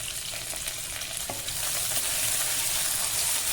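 Onions, green chillies and curry leaves frying in a pan for a leafy-greens pulao, a steady close sizzle with occasional stirring scrapes, growing slightly louder toward the end.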